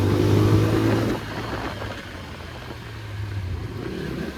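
A 2025 TVS Apache RTR 160 4V 160cc motorcycle engine revs loudly up close with a sporty sound, then drops to a lower, steady idle-like rumble with a slight rise near the end.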